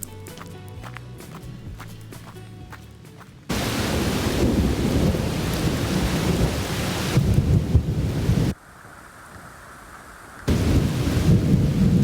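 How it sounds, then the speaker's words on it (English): Heavy thunder rumbles loudly and continuously during a mountain storm on a hike, with rain and crunching footsteps; the roar drops away briefly before returning at full strength. "It is thundering pretty consistently"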